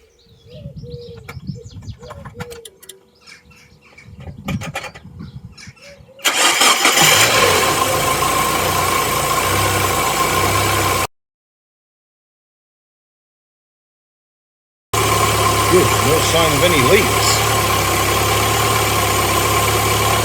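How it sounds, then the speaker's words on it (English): A Mazda MX-5 undergoing coolant leak repair, its engine light on, starts up and idles unevenly. A quiet stretch of speech and birdsong gives way to a loud, steady engine drone, which cuts out briefly and then resumes. "Not idling properly, but that's again because of the sensors, the engine light's on."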